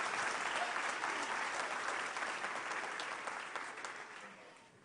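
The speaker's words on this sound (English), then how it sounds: "I've got a round of applause for our graduates" Audience applause for graduates at a school graduation ceremony, a dense steady clapping crowd filling the room before tapering off toward the end.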